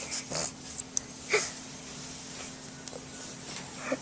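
A pug gives a few short, faint snorts and wheezy breaths, with quick sniffs scattered through a quiet room.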